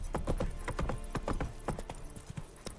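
Roach the horse's hooves in The Witcher 3 clip-clopping at a steady trot, a close, even rhythm of sharp hoofbeats with no talking.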